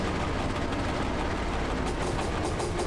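A diesel locomotive coasts in the driving game Train Driver 2, giving a steady, dense rumble of rolling wheels and engine noise with faint rhythmic clatter, continuous and close, with no talk.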